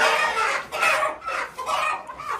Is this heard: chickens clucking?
yes